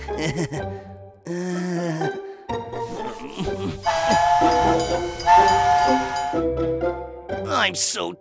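A train horn sounds in long, tonal blasts amid rumbling and hissing, with voices and music-like cues breaking in between.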